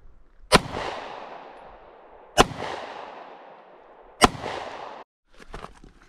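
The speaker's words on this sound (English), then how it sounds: "Time to try some hollow point 9mm." Three sharp, loud gunshots from a Springfield Hellcat 9mm pistol firing 124-grain hollow point rounds, spaced about two seconds apart, each followed by a ringing decay, then some faint rustling at the end.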